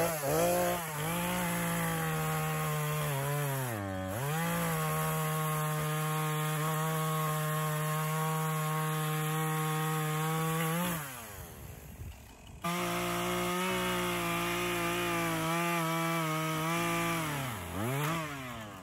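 A chainsaw bucks firewood logs into 35 cm rounds in summer heat, its engine holding a loud, steady high-revving whine close by, with brief dips in pitch as the cut loads and a short drop near the end before revving again.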